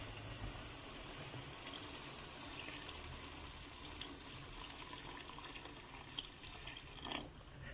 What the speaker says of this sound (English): After this, I'm going to be adding in some water. It's about a cup and a half of boiling water.